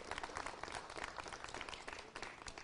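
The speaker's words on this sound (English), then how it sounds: "Let's give her a big round of applause." A room at a state news conference breaks into a round of applause, steady scattered clapping from a modest crowd, held at low level throughout.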